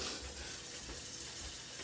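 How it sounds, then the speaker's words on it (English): Tap water running into a measuring cup, a steady, close hiss of pouring with no pauses. "I'm just filling up my measuring cup with 3 cups of water"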